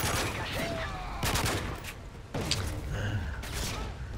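Bursts of gunfire in Call of Duty Modern Warfare 3 on the Dome map, several quick volleys at moderate volume with game noise between them and no speech.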